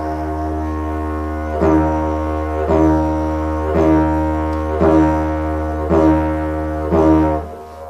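A didgeridoo drone holds steady while quick tongue pulls off the roof of the mouth add six evenly spaced, bouncy pulses, imitating a kangaroo hopping, played close and alone.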